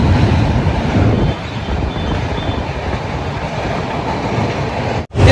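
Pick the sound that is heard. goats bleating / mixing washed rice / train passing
train passing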